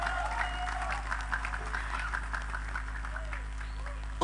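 People clap in a crowd, with scattered, fairly quiet applause over a constant low hum, as a few voices and cheers poke through.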